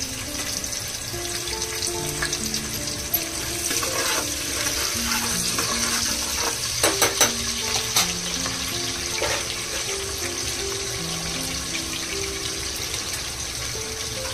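Onion, partly ground in a mixer, frying in a pan for a veg potato dum biryani, a soft continuous sizzle with occasional light clinks, under quiet background music.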